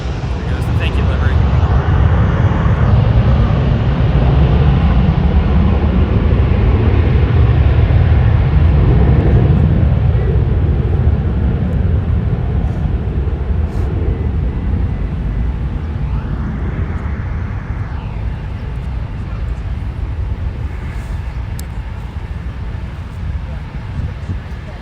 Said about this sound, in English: There it goes, the Delta Airlines Airbus A321